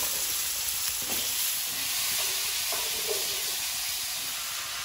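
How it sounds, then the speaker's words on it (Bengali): Potatoes fry in a wok of oil with nigella seeds and slit green chillies, giving a steady, close, even sizzle and hiss that runs unbroken throughout. "আলুটা ভাজা হতে থাক, ভাজা হতে থাক।"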